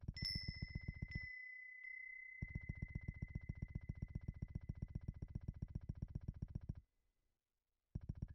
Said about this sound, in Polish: podoba mi się dźwięk dzwonka w tle